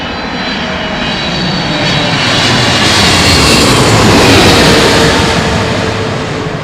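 Boeing 777-300 jet at London Heathrow Airport, heard as a loud, continuous engine roar and rumble that swells slightly and then eases off.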